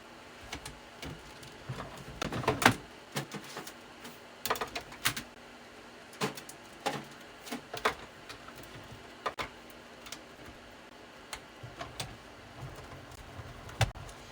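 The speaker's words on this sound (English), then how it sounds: "I ran it through my machine, and now I've got this beautiful embossed raindrop piece." A die-cut embossing machine feeds paper through in a quiet crafting setting, giving off sparse, scattered mechanical clicks and ticks at uneven intervals over a faint background, with no voices.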